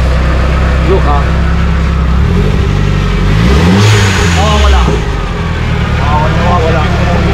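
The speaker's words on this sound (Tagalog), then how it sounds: "When you rev the car, you will see the time advances." A Nissan S13 engine that won't start properly is revved in a garage, rising and falling in pitch through a couple of throttle blips over a steady idle, loud and close, with a voice speaking over it.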